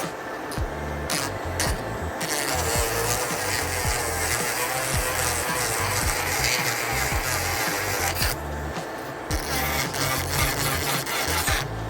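An electric nail drill files a fingernail, its high rasping buzz running continuously and close with uneven, wobbling grinding pulses as the bit skips without a steadying finger.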